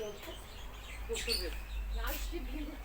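Small birds chirp in short, high tweets in a pet shop's bird section. The calls come intermittently over a low room hum, and people talk nearby.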